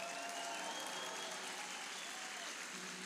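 Dense, sustained applause from a large audience at a Christian conference, steady and loud throughout with no voices cutting through.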